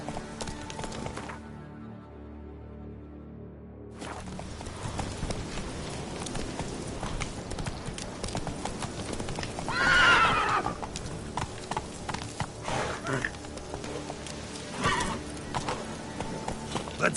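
Roach, a horse in The Witcher 3, gallops in steady clip-clop hoofbeats with a whinny near the middle, close and loud over game ambience and music.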